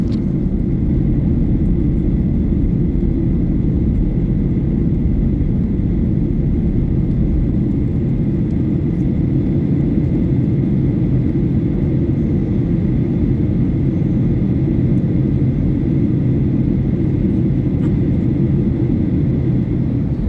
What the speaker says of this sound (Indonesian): sekarang pesawat kita sudah final approach, jadi sebentar lagi kita akan mendarat atau landing di Bandara Sepinggan Balikpapan